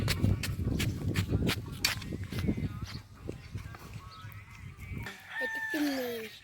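A rooster crows clearly near the end, preceded by clucking chickens and scattered barnyard noises, with faint voices in the background.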